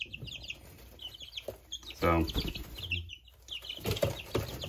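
Three-week-old baby chicks cluck and peep in a busy brooder, short bright calls scattered throughout with a louder flurry near the middle, while someone speaks briefly among them.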